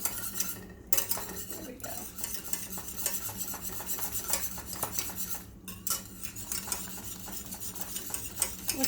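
Flour is whisked into a lumpy mixture in a pan, quick clinking, scraping strokes of metal against the pan repeating steadily and close by, with a faint sizzle underneath and a brief spoken remark.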